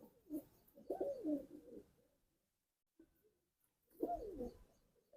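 Large pigeon of a breed kept for pigeon flying, from Punjab, cooing in low, throaty bursts, one near second one, a short murmur at three seconds and another full coo near the end, with quiet gaps between.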